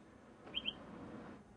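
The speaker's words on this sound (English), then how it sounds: "and so these are some bird tweets." Two quick, bright chirps of Scottish birdsong play as an ambient effect on a Scottish golf course in a video game. The short pair of tweets stands alone over a soft, steady background bed.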